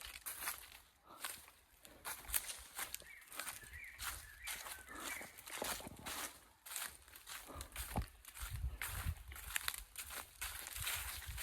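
Footsteps crunch and rustle through forest undergrowth in an irregular walking rhythm of crackling leaves and twigs, close by. Faint bird calls sound in the background.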